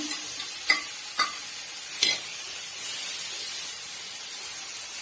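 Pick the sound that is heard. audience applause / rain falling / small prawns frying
small prawns frying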